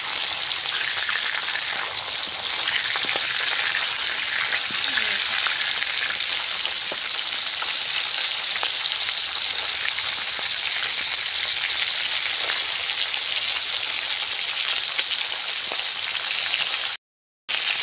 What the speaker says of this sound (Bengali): দেখো এখনো পর্যন্ত মাছগুলো ভাজা হচ্ছে।